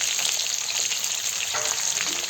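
Bitter gourd pieces fry in a pan over a very low gas flame, giving a steady, close, continuous sizzle with soft crackle throughout and no talk.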